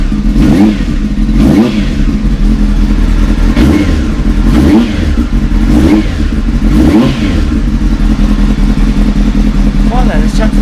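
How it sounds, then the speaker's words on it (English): A 2001 Honda Hornet CB600F motorcycle engine just after a cold start, idling close by with a rough low rumble and several quick throttle blips that rise and fall, about five revs in a row. "Little rev up, just to clear its throat a little bit."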